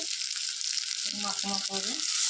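Water hits a sizzling tomato curry in a hot pan, giving a constant bright hiss and crackle, while a voice briefly speaks over it partway through.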